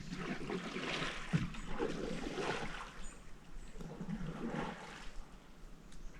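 A canoe paddle stirs water during a nature outing, soft intermittent swishes and gurgles, close but faint against a quiet outdoor background with no talk.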